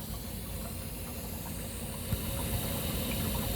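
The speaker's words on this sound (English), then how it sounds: "that's water building up back behind the plug" Water builds up behind the plug in an RV sewage tank, a steady hissing, rushing wash with a faint low rumble, continuous and unbroken, with a couple of small knocks partway through.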